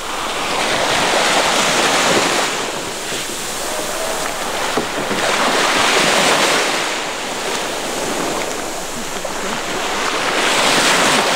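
Sea waves roll onto the shore at Koh Kood, Thailand, a loud, continuous surging roar that swells and ebbs in slow cycles, with wind buffeting the microphone and no one speaking.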